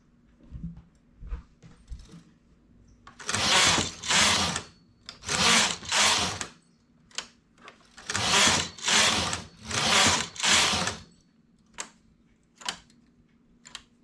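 A knitting machine knitting rows: repeated sliding carriage passes in a steady rhythm, each a loud rasping sweep lasting about a second, with quieter clicks in the pauses between passes and no talking.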